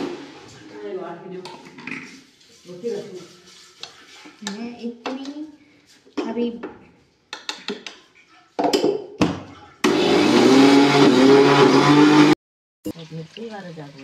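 Speech in short bursts, then a loud, steady mechanical whirring of a mixer grinder grinding lentils for a couple of seconds that cuts off abruptly, followed by more talk.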